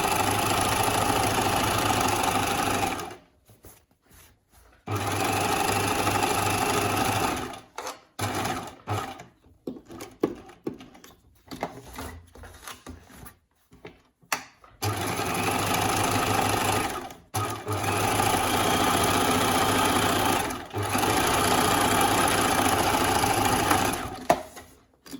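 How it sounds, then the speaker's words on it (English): A sewing machine edge-stitches a scrubs neckline in several long, steady runs at close range. Short pauses and stop-start bursts break up the runs, and no one speaks. "edge stitch the top for extra security"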